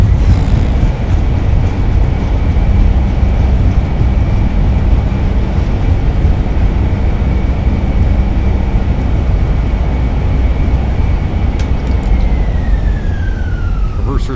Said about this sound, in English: Nose down gently, reversers are out.